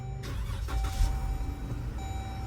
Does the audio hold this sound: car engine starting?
yes